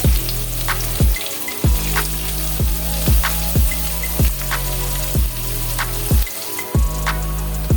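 Chopped coconut, garlic and ginger fry in a pan for a beef and koorka curry, a loud, steady close sizzle broken by regular scraping stirs about once a second.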